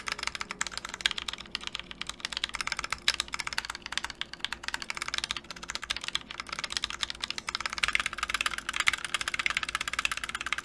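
Typing on a custom mechanical keyboard to show off its stabilizers, a steady run of clacky keystrokes with occasional heavier thocks from the longer keys, close up and continuous, with no voices.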